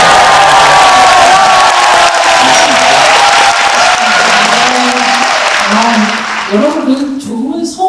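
An audience cheers, whoops and applauds loudly as a musician walks on at a book-talk event. The dense roar runs continuously and begins to ease near the end, while voices start talking over it.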